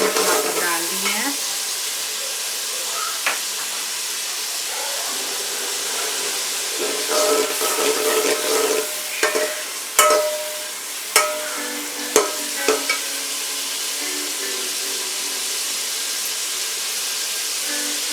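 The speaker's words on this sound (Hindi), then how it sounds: "मैंने इसमें टमाटर डाल दिए हैं।" Tomatoes fry in a pan for chickpea pulao with a loud, steady sizzle and hiss, while a spoon stirs and knocks against the pan now and then.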